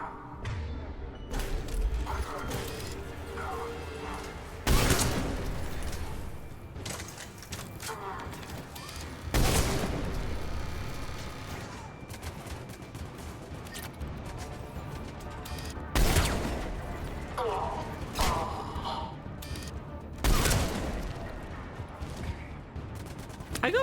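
Gunfire in the Mass Effect video game: bursts of weapon shots and sharp impacts repeat every few seconds over a busy combat soundscape, with a person talking over the action.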